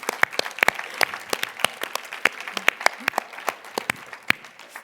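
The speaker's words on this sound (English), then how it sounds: "I would like to ask for you an applause." Applause from a conference audience, with sharp individual claps popping out irregularly over a softer clatter, fairly close and moderately loud for nearly five seconds.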